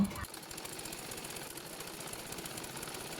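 A sewing machine runs along a marked line on cloth for a salwar pant, with a fast, even mechanical chatter heard close up from start to finish. The stitching cuts off abruptly at the end.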